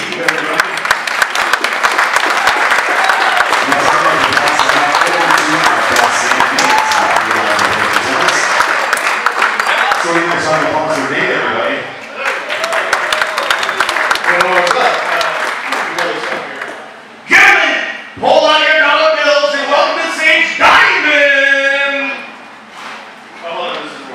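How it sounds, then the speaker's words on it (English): Wedding guests applaud the bride's father, Steve, at a July 2024 reception: loud, dense clapping with cheering that swells, dips near the middle, then returns in bursts, with voices talking and calling out over it. "I'm going to have a round of applause for Brydie's dad,"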